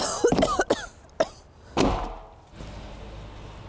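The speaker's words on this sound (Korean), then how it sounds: "손님을 찾아 운전을 하는 중에도 멈출 줄 모르는 그녀의 기침" Several sharp, harsh allergic coughs from dust in quick bursts, close by, then a pause before one heavier cough, with a low hum continuing afterward.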